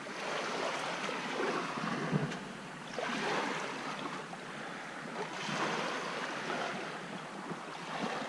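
Waves wash onto the shore below the eroding fossil cliffs at Calvert Cliffs, surging in a soft, broad hiss that swells and recedes several times, fairly quiet and unbroken by voices.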